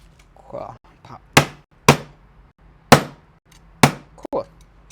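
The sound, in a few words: hammer striking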